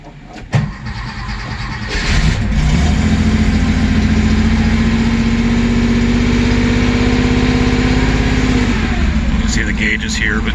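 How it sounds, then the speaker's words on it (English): A Porsche 911 engine cranks and catches on a chilly morning around 40 degrees, then settles into a loud, steady, close idle that holds for several seconds before easing slightly near the end. "So let me start the car for you."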